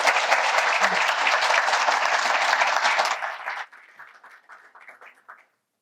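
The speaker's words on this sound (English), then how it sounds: "Let's give them a round of applause" An audience at a clean energy summit applauds a panel team with dense, steady clapping for about three seconds, then thins quickly to a few scattered claps and fades out.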